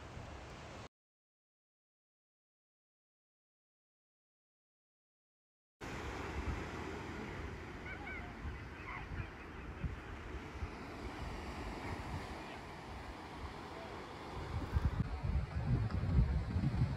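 Sea waves wash against a shore under steady wind buffeting, a continuous broadband rush after a short silent gap, swelling a little louder near the end, with no voices.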